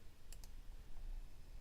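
A computer mouse clicks twice in quick succession while deleting a message in Gmail, faint and close over a quiet room hum.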